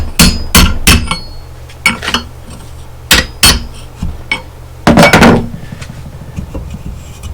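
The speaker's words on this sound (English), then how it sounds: "I got a chisel and a hammer. We're just trying to break this apart." A hammer striking a chisel to break apart a front hub lock ring on a Mitsubishi Montero Gen 2.5, sharp metallic clanks in irregular bursts of two or three hits, loud and close.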